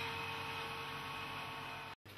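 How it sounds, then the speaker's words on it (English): The vacuum pump of a scanning electron microscope runs with a steady, even electrical hum and a faint high whine, briefly cutting out near the end. "The material tester turns on the vacuum pump control and vents the specimen chamber."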